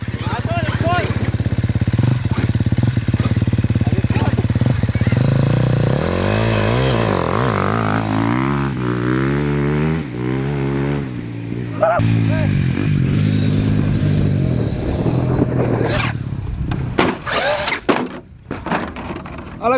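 A KTM dirt bike engine runs loud and close, revving up and down with rising and falling pitch sweeps and sharp throttle bursts, while people talk over it throughout.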